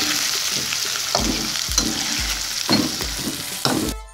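Ground masala frying and being stirred in a karahi for a village-style Lahori chicken karahi, a steady loud sizzle with repeated scraping stir strokes throughout.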